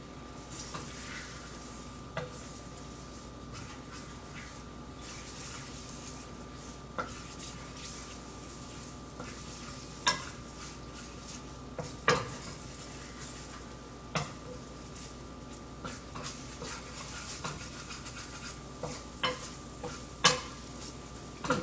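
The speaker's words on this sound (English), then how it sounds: "Give this a stir." Mock crab mixture is stirred in a frying pan over a faint, steady sizzle, with scattered light clicks and scrapes from the utensil against the pan throughout.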